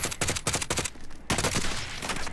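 Bursts of automatic gunfire from a Call of Duty Warzone match, several rapid volleys in quick succession with a short gap before a sustained stretch, loud and close.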